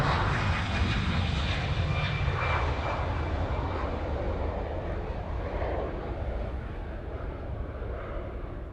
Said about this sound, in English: this should be Hawaiian Flight 10 heading off to LA with the Extra X.